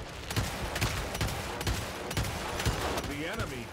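Rapid laser gunfire in the video game Eternal, a dense continuous barrage of sharp repeated shots with a brief warbling sci-fi tone near the end.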